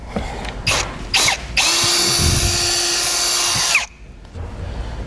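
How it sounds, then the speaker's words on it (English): A power drill whines steadily for about two seconds after a few short bursts, boring through a rubber grommet in a 2016 Ford Taurus before stopping abruptly; close and loud. "We pull up on it, drill a hole in the middle of it, going down."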